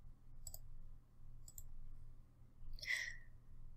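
A single mouse click on an on-screen button stands out clearly near the end, crisp and close against a low steady room hum, preceded by two softer, similar taps earlier.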